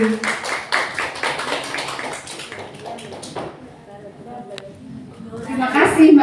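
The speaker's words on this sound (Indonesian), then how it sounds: "Mari kita sambut dengan tepuk tangan yang meriah" Audience applause welcoming someone speaker at a marketing plan presentation: a dense, crackling burst of many hands that fades after a few seconds, with a voice coming in toward the end.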